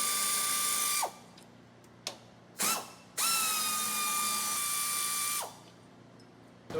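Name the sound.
removing radiator bolts with tools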